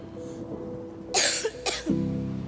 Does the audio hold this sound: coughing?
yes